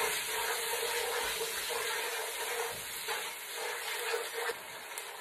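Chicken frying in a pan with salt and ginger garlic paste for pulao gives a steady, dense sizzle that holds throughout, close and fairly loud with no talking.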